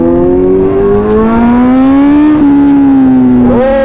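Motorcycle ride through heavy road traffic with a Kawasaki Z900, a loud steady engine drone that rises and falls in pitch as it revs, close and continuous with no talking.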